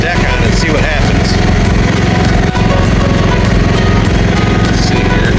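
A Cub Cadet XT1 Enduro 42-inch hydrostatic riding mower cuts grass with the deck engaged, its engine drone loud and steady, with a slightly rougher chopping texture across the whole stretch.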